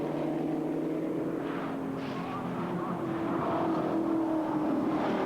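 A Corvette race car competing in a World Challenge race at Lime Rock drones steadily at a distance, its engine note continuous and fairly faint, with commentators talking over it.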